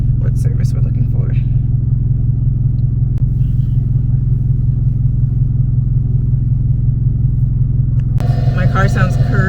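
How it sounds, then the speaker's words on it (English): A car engine idles roughly with a loud, steady low rumble and throbbing hum from inside the cabin, while a voice speaks briefly at the start and again near the end. "My car sounds crazy right now. Or idle roughly."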